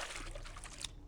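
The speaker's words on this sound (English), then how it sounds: "have a barrel of water we can drink" Soft, continuous pouring water comes from drinking at a water barrel in the sewers of the game Gothic Archolos, quiet and close, trailing off near the end.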